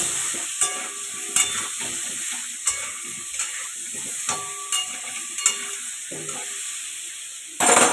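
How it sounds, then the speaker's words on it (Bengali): Potatoes with turmeric and salt frying in a pan, a steady close sizzle with a constant hiss and repeated scraping stirs of a utensil. "আলুটাকে একটু লাল লাল করে ভাজবো"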